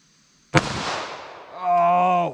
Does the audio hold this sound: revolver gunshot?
yes